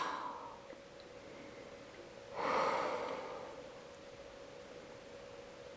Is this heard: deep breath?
yes